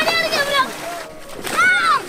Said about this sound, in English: watched them jump in the water